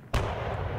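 Artillery fire in the Stalingrad '42 wargame Panzer Campaigns: a single loud, sharp blast that breaks the quiet, followed by a heavy rumble that keeps going to the end.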